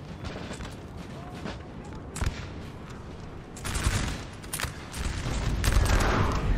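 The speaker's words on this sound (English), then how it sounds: "Howitzer is blasting in this area where there's a lot of French infantry firing." Battle din from a Napoleon Total War 4v4 match, with howitzer artillery booming amid rolling French infantry musket volleys; dense crackling gunfire throughout, swelling louder in the last few seconds.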